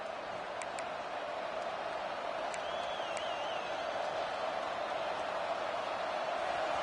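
Stadium crowd at a football game, a steady distant roar of many voices sustained throughout with a faint whistle and a few sharp clicks on top, no clear commentary.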